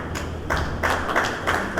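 Applause at a wedding celebration, several bursts of clapping that start and stop in uneven waves over a couple of seconds, fairly close and loud.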